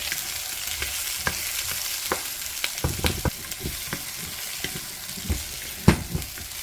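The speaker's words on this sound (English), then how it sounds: "Just toss them around for about a minute or so." Vegetables tossed and stir-fried in a pan for sweet and sour chicken, a constant sizzle broken by irregular clanks and scrapes of utensils.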